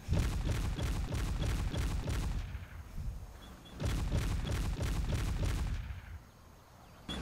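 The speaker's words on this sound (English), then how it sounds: "it's not firing at any enemies because I have no enemies. So it's doing this just by firing at a position" Anti-aircraft guns fire into the air in the Men of War: Assault Squad video game: two loud, rapid volleys of booming shots in quick succession, separated by a brief lull with echoing decay.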